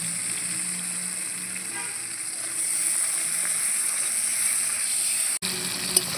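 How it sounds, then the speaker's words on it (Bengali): Chopped tomatoes with a little salt frying in a spice tempering for a light-oil bean and bori curry, a steady close hiss and sizzle of oil, with a brief stir clatter near the end. "এর ওপরেই দিয়ে দেবো কেটে রাখা টমেটোগুলো টমেটোটা নরম হওয়ার জন্য অল্প নুন দিয়ে"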